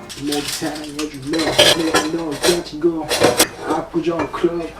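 Dishes being washed in a small studio-apartment kitchen sink, with close, frequent clinks of cutlery and clattering plates and pots, set against music playing throughout.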